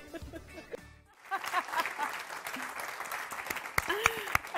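A voice speaks briefly, then an audience breaks into sustained applause with dense, steady clapping that continues to the end, during a Turkish interview program.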